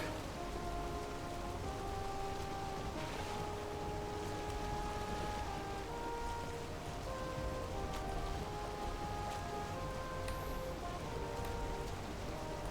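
Steady rain in the video game Valheim, a soft continuous patter heard while sailing in the meadows, with faint background music tones running underneath and no voices.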